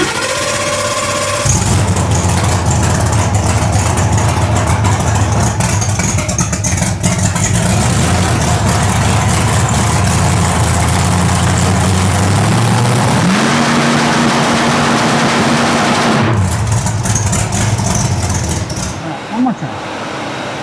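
A compressed-air supercharged car engine on a dyno with a trans brake, loud and steady throughout, its pitch climbing partway through as it revs, then dropping back before a brief sputter near the end.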